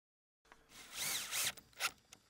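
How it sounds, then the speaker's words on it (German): A power drill bores pilot holes into fence-post wood in short bursts, pitch rising and falling as it bites, fairly quiet and close with no talking. "Dazu wird von hinten vorgebohrt, allerdings nicht zu tief"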